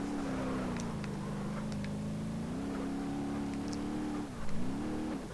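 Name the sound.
car engine driving in BeamNG.drive video game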